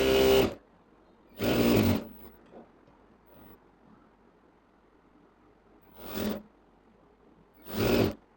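A sewing machine stitching the side seam of a dress runs in four separate short bursts of rapid mechanical chatter, with quiet pauses and faint handling noise between them.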